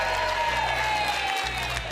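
A group of policemen claps in steady, continuous applause, with a low tonal hum running underneath.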